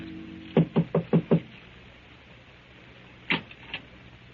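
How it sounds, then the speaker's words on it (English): A door at a Paris address is knocked in a 1942 radio drama: five quick, evenly spaced raps up close, then a pause and a couple of fainter follow-up knocks. "knocks at the door of number 16 Rue de Roche"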